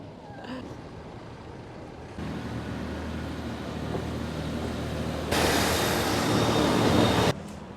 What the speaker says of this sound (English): you can see the train and the barriers are open